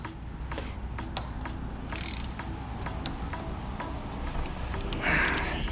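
A bolt on the front fork of a 2019 Honda Grom being tightened with a ratchet, a close series of quick, crisp clicks in short bursts over a low shop hum.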